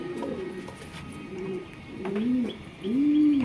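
Racing pigeons in a loft give soft, throaty coos, a few rolling calls rising and falling in close succession, the last one the loudest. Faint chirps and a low hum from the loft sit beneath them.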